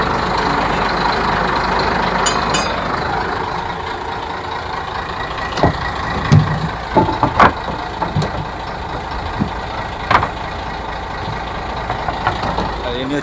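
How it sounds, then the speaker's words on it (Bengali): A fishing trawler's engine runs at a steady, loud drone, with scattered knocks and clanks rising over it near the end. "ইঞ্জিনটা স্টার্ট হয়ে গেল"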